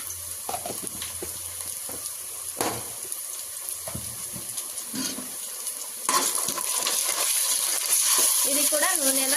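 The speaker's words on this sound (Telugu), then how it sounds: "ఇప్పుడు అల్లం ఎల్లిగడ్డ పేస్ట్ వేస్తున్నా" Ginger garlic paste hits hot oil with browned onions in a pan for tomato bath, starting with stirring and soft scraping, then breaking into a louder, steady sizzle that stays close and continuous.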